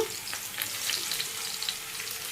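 Pieces of chandua fish, an Andhra fish curry ingredient, go into a pan of lightly fried onions, giving a soft, even frying hiss with faint crackles, close and without talk.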